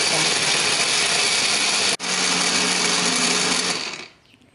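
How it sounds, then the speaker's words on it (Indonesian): A blender whirs steadily at high speed, grinding cut-up chili and spice paste with a little water or oil for jengkol rendang, loud and continuous with one brief dip before winding down at the end. "Setelah ini kita siapkan blender. Kita masukkan bumbu-bumbunya"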